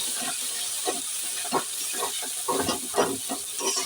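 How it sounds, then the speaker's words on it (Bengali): Green pea filling for a paratha is stirred and pressed in a hot pan, with repeated close scraping strokes and short bursts over a steady hiss, and no voices. "দেখো এবার ভালো করে কষিয়ে নেব"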